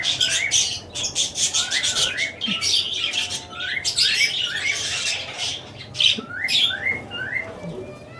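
Birds at a Sunday bird market in Korangi, among them pied males ready to breed: many rapid, shrill squawks and chirps in quick repeated bursts, close and loud, with faint background chatter.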